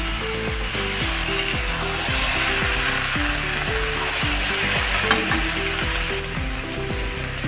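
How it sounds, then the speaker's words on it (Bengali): Boiled jackfruit and potato pieces, lightly salted, fry steadily in a pan for a Bengali green jackfruit dish, with a loud, continuous sizzle throughout and a rhythmic low backing pattern underneath. "লাল করে কাঁঠাল আর আলুটাকে ভেজে নিতে হবে"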